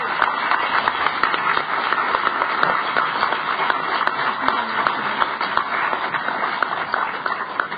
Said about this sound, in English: Let's give a big round of applause for Sandy Richmond and Kim